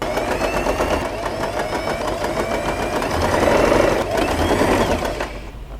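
A sewing machine stitches fabric for a scrunchie, its fast, even mechanical whirr running continuously up close and swelling slightly louder toward the end, with no talking.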